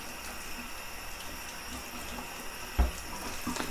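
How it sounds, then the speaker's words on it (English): Steady cold tap water runs and splashes against the outside of a Bialetti Moka Express 6-cup pot nearby, a continuous broadband rush with a brief knock near the end. "you can just run some cold water along the outside"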